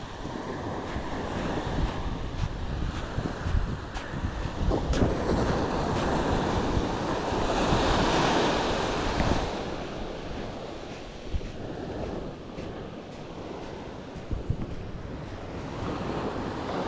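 Ocean waves break and wash along a beach during surf fishing for snook, a steady roaring surge that swells and fades, with gusts of wind buffeting the microphone.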